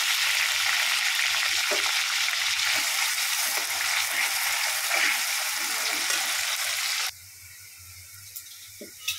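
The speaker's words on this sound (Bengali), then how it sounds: "তেলের মধ্যে পেঁয়াজ দিয়ে দেব, তেজপাতা দিয়ে দিলাম" Onions and bay leaf sizzling in hot oil, a steady bright crackle for about seven seconds, then dropping suddenly to faint sizzling with a few clinks.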